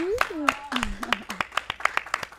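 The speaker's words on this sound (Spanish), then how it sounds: "fuerte el aplauso, claro que sí" A handful of people clap in quick, sharp strokes in a podcast studio while a person vocalizes over the clapping, close and fairly light.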